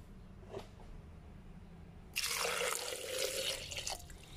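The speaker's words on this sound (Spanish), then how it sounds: "vamos a usar también un vaso de agua. Solamente un vaso." Water poured into a glass for cherry juice, a sudden steady splashing stream that starts midway and runs loud to the end, with a faint drip just before.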